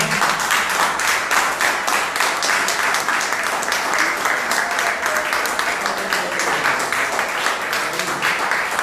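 A church congregation claps steadily throughout, a dense, even wash of applause with faint murmuring underneath.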